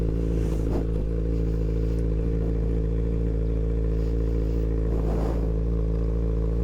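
A motorcycle engine drones steadily while riding, a loud low constant hum with faint clatter and slight swells throughout.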